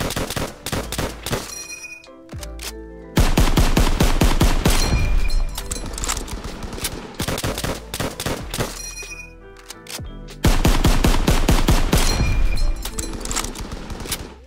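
An M1 Garand rifle fires in a Call of Duty World War II game. Shots come as rapid, loud, sharp cracks in dense bursts, with brief pauses and several loud volleys, each shot trailing a booming echo, with no talk.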